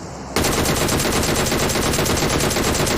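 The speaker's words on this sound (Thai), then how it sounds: "ยิงกันอยู่ยิงกันอยู่" Rapid automatic gunfire in the mobile game PUBG Mobile starts abruptly and rattles on as a loud, continuous burst of shots with no talk over it.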